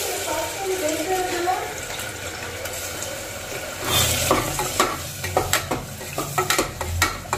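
Masala for Hyderabadi chicken biryani sizzles in a hot pan, with scraping stirs and clinks of a spoon growing busier midway, close and moderately loud.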